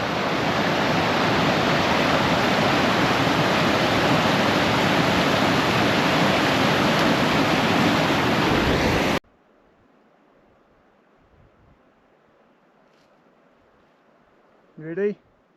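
Loud, steady roar of a big main river on the east coast during a spring tahr hunt, broadband rushing water close by that cuts off abruptly, leaving faint quiet and a brief voice near the end.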